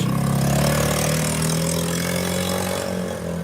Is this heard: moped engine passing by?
yes